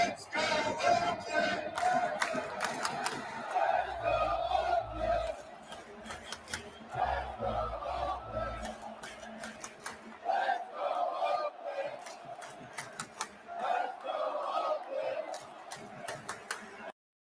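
A baseball stadium crowd in Oakland roars through a rhythmic "Let's go Oakland" chant, with sharp sets of claps and drumbeats punctuating the repeated cry, loud and echoing across the stands.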